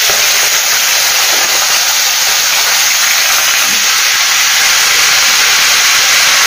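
Chopped sorrel greens hit hot tempering in a pan, setting off a loud, steady steaming hiss that carries on evenly with no talk over it.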